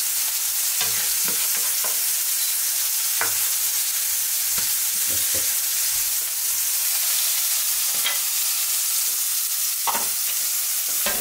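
Onion sofrito sizzling in a pan while ingredients are added and stirred, a constant hiss broken by sharp scraping and utensil knocks at irregular intervals, close and without talk.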